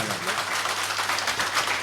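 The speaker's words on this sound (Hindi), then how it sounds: "मेरा दिल कहता है जोरदार तालियां बजा दें आप लोग" Audience at a mushaira poetry gathering breaks into loud, dense applause, a steady wash of many hands clapping throughout with no pause.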